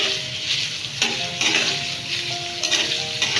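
Five halved shing fish frying lightly in a pan, a steady close sizzle with crackling bursts and occasional soft scrapes of a utensil against the metal, no voices.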